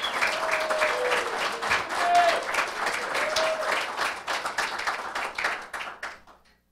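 Audience applause at a St. Lucie Sheriff's Office quarterly awards ceremony for Sergeant James DeFonso, a dense burst of clapping that swells and then tapers off to silence, with a voice briefly audible.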